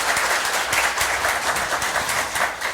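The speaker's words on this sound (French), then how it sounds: "je vous demande de les applaudir" An audience at a quiz match claps for the team captains in a steady, moderately loud patter of many hands that lasts the full few seconds.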